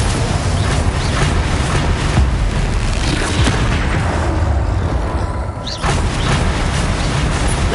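Confringo fire spell blasts in the game Hogwarts Legacy land as a loud, continuous stretch of booming, rumbling explosions, with one brief dip in the middle before the roar resumes.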